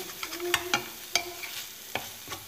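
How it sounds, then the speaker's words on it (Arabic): Ingredients for a potato gratin being stirred together with salt in a bowl, giving several sharp scraping and clinking strokes at an uneven rhythm, close and moderately loud, with no voices. "نخلط كل هاد المكونات"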